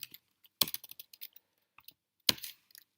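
Keystrokes on a computer keyboard while a port-scan command is typed into a web OSINT recon tool, coming in two short quick bursts of close, crisp clicks with a pause between them.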